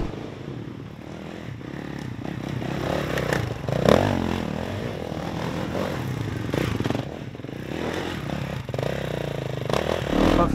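A Kawasaki KX 250X enduro motorcycle ridden through woodland terrain, its engine a steady rough drone with rising revs and scraping, clattering bumps throughout, with no talking.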